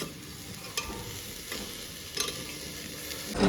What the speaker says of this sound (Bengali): তো এদিকে ডালিয়া বসিয়েছি।